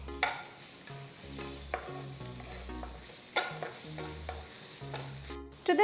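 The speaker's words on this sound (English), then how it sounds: "Stir fry the vegetables on high flame for about 2 minutes" Chopped vegetables with green chilli and capsicum stir-fried on high flame, loud sizzling and frying under repeated scraping stirs of a spatula in a pan, close and continuous.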